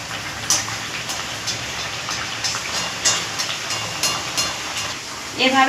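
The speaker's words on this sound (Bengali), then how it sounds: "এভাবে সব লুচিগুলোকে ভেজে নেব।" Luchi, puffed flatbreads, fry in a pan of hot oil with a steady bubbling hiss and scattered crackles and pops, close and constant throughout.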